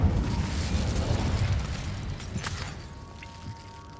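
A fire spell, Incendio, cast in the Hogwarts Legacy video game bursts out as a rumbling explosive whoosh that swells loudly at once, then fades over a few seconds with a sharp crackle partway through.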